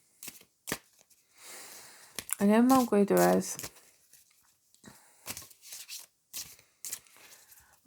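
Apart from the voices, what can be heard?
shuffling tarot cards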